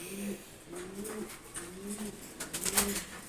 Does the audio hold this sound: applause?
no